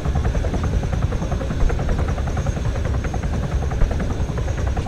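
Close and loud, a helicopter in the game Arma 3 holds a continuous, rapid rotor thump layered on a heavy low engine drone, steady throughout and without any talk.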